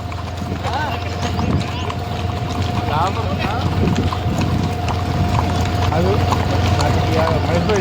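Rhythmic clip-clop of a horse's hooves on pavement, close by, under continuous chatter and street noise.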